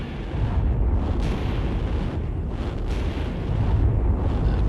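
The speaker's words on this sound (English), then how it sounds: "the power gel detonated" Power gel explosive detonating beside a vehicle pulling onto a home's front verge: a sustained, heavy roaring rumble of blast and debris, loud and dense throughout with no voices.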